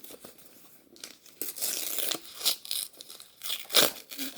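Wrapping paper heavily stuck with tape is ripped and peeled off a book at close range, with several loud tearing bursts and crinkling between them, with no speech.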